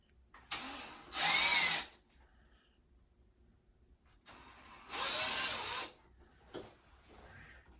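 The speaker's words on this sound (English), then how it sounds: "then he's going to pre-drill the holes" Two short bursts from a power drill bore pilot holes for a blind bracket. Each whine lasts about a second, with quiet handling noise between the bursts.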